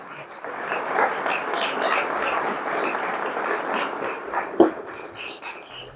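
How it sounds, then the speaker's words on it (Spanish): Church congregation applauding for the Lord, a sustained mid-level round of clapping with voices mixed in, one sharper clap standing out near the end. "Denle un aplauso fuerte al Señor."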